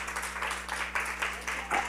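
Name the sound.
congregation applauding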